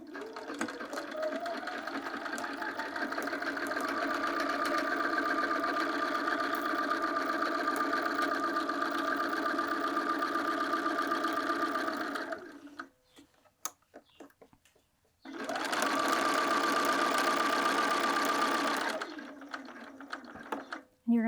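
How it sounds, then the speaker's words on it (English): A sewing machine stitches the side seams of a fabric tote bag with a 3/8 inch seam allowance, running in a steady, loud whir. It stops abruptly for a couple of seconds, then starts again for a second stretch and cuts off. "head over to our sewing machine and sew along these sides from the bottom to the top using a 3/8 inch seam allowance"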